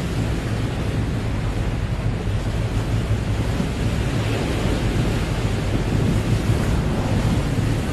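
Sea waves at the muddy Yangtze estuary near Shanghai, a broad continuous roar of surf mixed with buffeting wind noise on the microphone, steady and fairly loud throughout.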